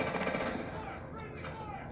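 Rapid, continuous video game gunfire, a dense, loud rattle of automatic shots that fills the whole clip with no pauses.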